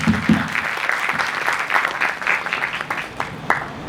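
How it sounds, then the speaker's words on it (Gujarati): Audience applause at a motivational talk, a burst of many hands clapping that rises quickly and then thins and fades over a few seconds. "ભાઈ એના માટે તાળી બજાવો."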